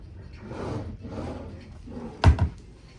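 Drawers in a Royal Caribbean Harmony of the Seas ocean view balcony stateroom slide open and shut, a soft wooden rumble ending in one close, fairly loud thump against quiet room tone.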